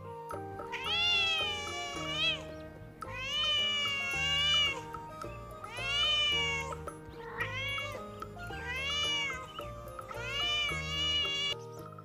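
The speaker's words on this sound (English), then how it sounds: "C for cat." A cat meowing in five long, drawn-out, wailing calls that rise and fall, close and loud, with music playing underneath.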